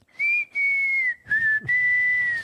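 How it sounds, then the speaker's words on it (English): A clear, sustained whistled melody with a couple of short breaks, close and fairly loud, with no voices. "The song that's playing in that, where it's just getting whistled."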